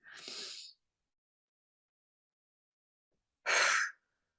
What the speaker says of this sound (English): Taking the breath in through the nose.